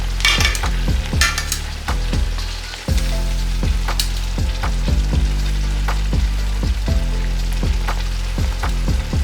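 Cooked turkey pieces going into a pan with masala and water, with steady close frying and bubbling, repeated sharp clinks of a spoon or spatula against the pan, and a brief quieter moment before the cooking noise picks up again.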